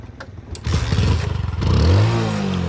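A Hero Honda motorbike kicks into life at close range, its engine catching after a few sputters and settling into a steady, throbbing idle with a slight rev, loud and alone.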